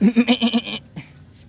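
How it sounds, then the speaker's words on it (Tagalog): A goat bleats nearby in a quick, wavering series of pulses at a water park with farm animals, then gives one short, softer bleat after a brief pause. "Ay kambing la."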